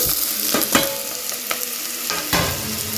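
Onions, green chillies and beans are stirred as they fry in oil, a steady sizzle broken by sharp spoon scrapes against the pan, close and fairly loud, with no talking.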